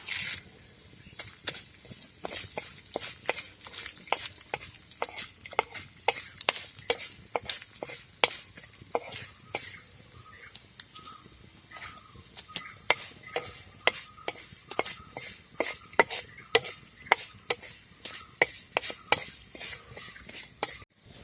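Chana dal roasts in a pan, a faint dry sizzle under repeated sharp scraping strokes of a spoon that come at an uneven, busy rhythm throughout, with no talking.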